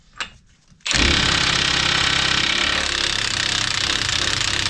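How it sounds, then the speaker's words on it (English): After a brief quiet moment, a Milwaukee cordless impact wrench bursts into loud, continuous rapid hammering up close as it strains to undo an over-tightened wheel bearing bolt on a Peugeot 807 / Citroen C8. "This Milwaukee has 3 bars of battery, and that had to work very hard"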